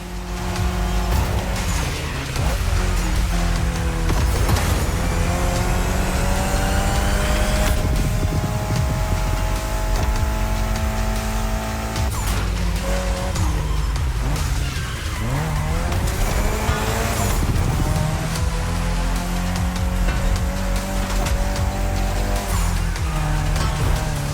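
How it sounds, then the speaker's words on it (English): Mitsubishi Lancer Evo X driven in the racing game The Crew Motorfest, with a loud, steady engine note that rises and falls through gear changes, plus tire squeal and skidding over continuous game music. "Evo X, or previously known as Concept X and Prototype X, is the final form of the Lancer Evolution series."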